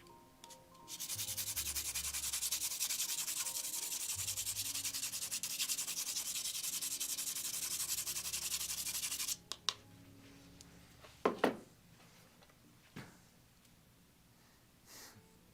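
An HB pencil sharpened in a steady, raspy grinding run lasting several seconds, followed by a few soft scrapes and taps.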